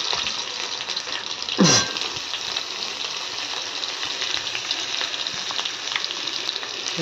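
Potato and pumpkin pieces sizzle loudly in hot oil for a spicy chilli chorchori, with a steady broad hiss throughout and one brief sharp swish as the pan is stirred, no voices.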